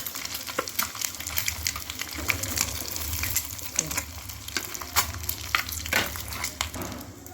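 Boiled eggs frying in a pan for egg curry give a steady sizzle with scattered crackles and the scrape of a spatula, close and continuous, with faint voice underneath.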